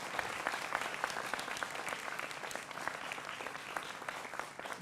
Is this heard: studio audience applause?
yes